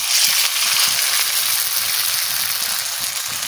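Potato chops made with peel frying in hot oil give a steady, loud, even hiss that runs the whole time, with no talk.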